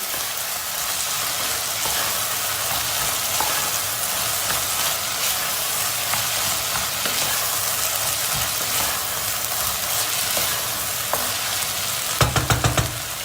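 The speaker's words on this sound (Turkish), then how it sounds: "Domates salçasını da şöyle güzelce kavuracağız" Tomato paste fries in a pot for lentil soup, giving a dense, steady sizzle that holds for the whole stretch, followed near the end by a short run of scraping stirs against the pot.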